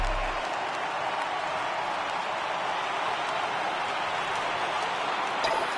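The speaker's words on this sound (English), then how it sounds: "Crowd gets up for the 3-2." Ballpark crowd at a Dodgers–Braves playoff game rises into loud, continuous cheering and applause on a full count, a dense roar that stays steady throughout with no talk over it.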